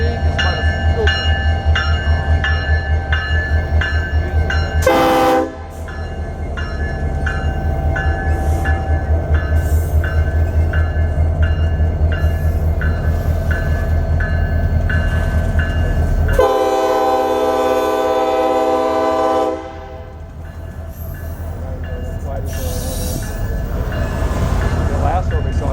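Union Pacific SD70 locomotive 1989 in Rio Grande heritage paint rumbles past eastbound, loud and close with a deep engine drone and wheel clatter, its horn sounding in a brief blast and then a longer sustained chord, while people talk nearby.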